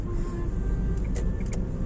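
A car picks up speed on a road during a driving lesson, with a steady, loud low engine rumble and broadband road noise close by and a few brief higher clicks layered on top.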